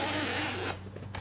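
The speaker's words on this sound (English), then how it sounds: "The zippers seem good." A zipper on a pocket of a Kradul 7.5 Lux golf stand bag is pulled in one quick, close, raspy stroke, followed by a short soft rustle.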